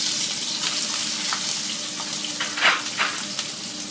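Onions and green pepper sizzling in a hot pan, a steady close crackle with a few brief louder spits and stirring sounds.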